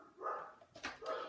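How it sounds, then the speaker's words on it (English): Dogs bark from a back room through an open door indoors, a few short, muffled yelps in quick succession at moderate distance, with no talking. "I'm sorry that my dogs are barking."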